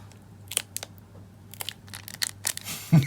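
Short crinkly rips and plastic crackles come in uneven bursts, close by, as a foil Naruto Card Game booster pack is worked open.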